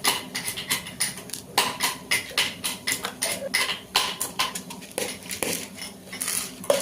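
Whole spices such as cloves are poured into small containers, making a quick series of sharp, rattling clicks and clatters close by, with no talk.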